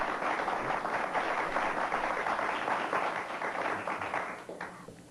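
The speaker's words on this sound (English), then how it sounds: "And let's give them all a round of applause, please." Studio audience applause for guests on a morning television interview show, a dense, steady clapping that holds loud for several seconds and then begins to thin and fade.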